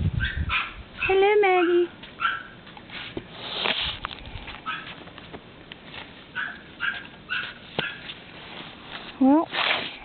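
A small yappy dog at home on a snowy day barks, yips, sniffs and gives high whining whimpers close by, in short repeated outbursts, while a person talks over it.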